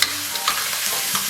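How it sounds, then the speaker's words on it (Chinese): Minced braised pork tossed in a hot wok with light and dark soy sauce, chili paste and soybean paste, a loud close sizzle with scraping stirs through a brief burst. "然后反复煸炒"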